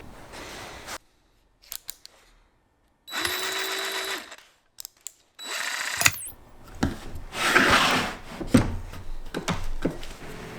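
A jigsaw fitted with a fine-toothed hardwood blade cuts scrap plywood in several loud, buzzing bursts separated by short pauses, with the final stretch the longest and busiest.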